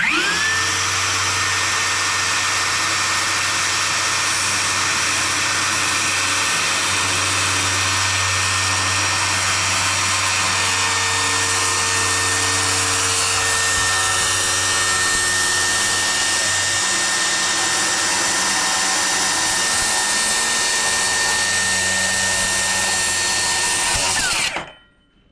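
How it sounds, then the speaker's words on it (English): A power saw runs continuously while cutting a kitchen countertop during a cabin kitchen install in Alaska, a steady loud whine held for nearly the whole span before cutting off abruptly at the end. "Time to cut the countertop."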